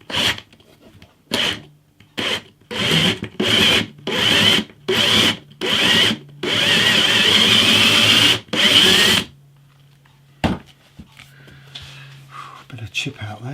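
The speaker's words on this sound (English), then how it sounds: "so might have to do that with a drill bit" A power drill fitted with a 9.9mm bit bores into wood for a single-bolt neck joint on a hollow-body guitar, running in a series of short loud bursts and then one longer sustained run close up, with a low hum continuing after it stops.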